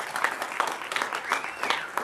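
Audience applause at a Super Saturday event, a steady wash of many hands clapping with scattered sharper claps, fairly close and continuous for about two seconds, with no one speaking over it.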